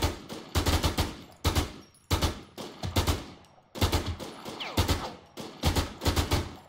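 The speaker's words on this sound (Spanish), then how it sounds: "¿Me está disparando a mí?" Rapid automatic gunfire in the zombie survival game Infestation: The New Z, heard as repeated sharp bursts separated by brief pauses, close and prominent with no talking.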